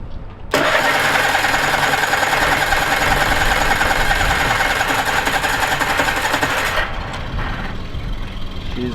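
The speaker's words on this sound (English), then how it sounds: "I'm just going to try and start the engines" An outboard motorboat engine starts abruptly and runs at a loud, steady buzzing rev for several seconds, then drops slightly in pitch as it settles toward idle.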